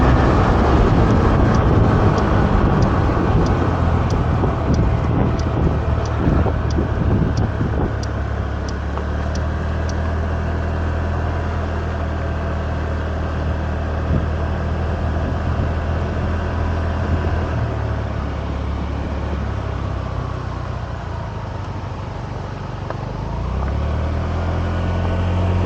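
A 2002 Honda Metropolitan II scooter with a Polini Hi Speed variator is ridden near a beach, its small engine humming steadily with loud wind rush as it slows, pulls in and turns around.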